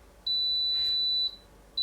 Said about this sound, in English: it beeps 10 times to let you know that it's finished